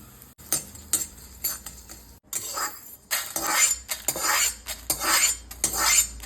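Spices dry-roasted without oil in a pan for a Kerala fish curry, stirred with a metal spoon that clinks and scrapes repeatedly against the pan in quick, loud, close strokes.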